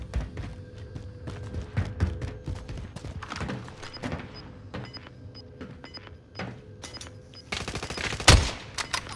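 Gunfire in the video game Call of Duty: Modern Warfare, with scattered single shots and short bursts at varying distances over several seconds and one loud nearby blast near the end.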